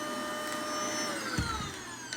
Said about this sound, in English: I have not yet seen a vacuum, a cordless handheld vacuum that was this strong on suction.